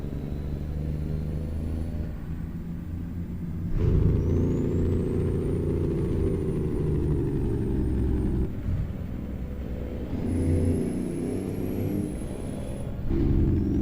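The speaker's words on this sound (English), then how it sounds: "Jake brake sounds cool." A truck's jake brake in American Truck Simulator, a steady low rumbling engine drone with harmonic layers and rising whine, surging louder near 4 and 13 seconds, continuous and close with no talk.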